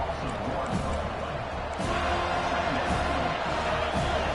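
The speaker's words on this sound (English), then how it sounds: "listen to the roar of this crowd" A dense, loud stadium crowd roar at a Florida State versus Florida football game fills the whole clip, steady and broad, with a slight surge partway through.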